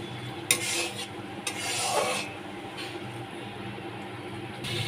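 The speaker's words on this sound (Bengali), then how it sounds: "আবার ভালো করে মশলাটাকে কষিয়ে নিতে হবে।" Spice paste with poppy seed paste is stirred and sautéed in a pan, giving scraping, rasping strokes in uneven bursts over a low sizzling bed, close by with no voices.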